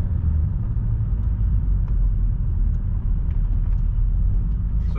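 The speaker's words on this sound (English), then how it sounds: "I destroyed some of the comfortness of this car by adding this noisy loud exhaust" Loud aftermarket exhaust on a remapped 197 hp BMW e38 725 TDS diesel, a constant deep, close rumble heard from inside the car during slow city driving, steady with no clear revving.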